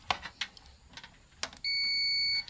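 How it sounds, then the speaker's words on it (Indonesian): A continuity-test buzzer gives one steady, shrill beep of under a second while probing a broken trace on an audio amplifier circuit board, preceded by a few soft clicks from the probes. "Oke, saya akan gunakan buzzer"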